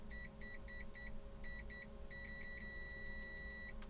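A multimeter on its continuity setting beeps as the probes touch, several short quick beeps in an irregular rhythm, then a longer sustained tone, clear over a quiet room hum.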